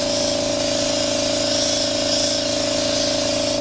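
Spray paint hisses steadily onto the lace-hole area of an Air Jordan 13 sneaker in one continuous close mist, loud over a faint steady tonal hum.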